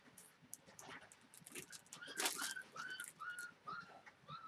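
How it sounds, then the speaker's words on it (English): Puppies whimper and squeal in thin, high, faint whines, several short rising cries coming in a loose, uneven run, close by with light rustling. "And yes, we've got puppies."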